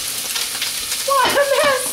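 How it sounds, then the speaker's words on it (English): Crab cakes frying in a pan give a close, steady sizzle, and a short high-pitched wavering cry cuts in over it during the second half. "Crab cakes are cooking."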